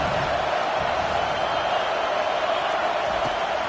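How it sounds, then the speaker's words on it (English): A home crowd roars steadily in a college football stadium during a game, a dense continuous wash of cheering with no breaks. "how nice is it to have the home crowd going absolutely bananas"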